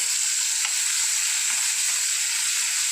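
Food frying in pure groundnut oil, a constant close sizzling hiss with faint bubbling and crackle and no voices.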